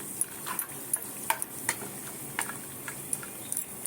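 Cashews and peanuts crackle and sizzle in a pan as they fry for dalmoth, with sharp scattered ticks and stirring scrapes over a quiet background, close and fairly faint.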